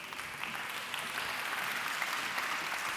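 Audience applause welcomes a speaker at a business assembly in Vicenza, a steady, dense clapping that fills the whole stretch at moderate volume, with no talk over it.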